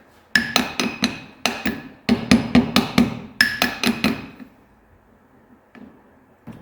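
A hammer taps a part onto a Porsche 911 CV axle in quick clusters of sharp, close metallic strikes, several bursts of three to five blows separated by short pauses, then a couple of lighter taps at the end.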